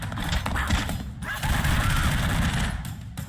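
Dense gunfire and explosions from the 2D action platformer The Expendabros fill the clip, rapid machine-gun bursts and blasts running continuously and loud, with a brief dip near the one-second mark.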